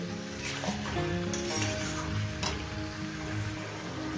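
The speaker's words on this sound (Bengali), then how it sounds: "এটা ভেজে নেব মটনটা" Mutton fries in a pan, a dense, steady close sizzle with a few stirring clatters, continuous and loud over quiet background music, no talking.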